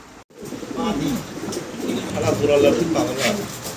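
Pigeons at a breeding farm coo in low, throaty rolling calls, close and fairly loud, overlapping as a steady murmur.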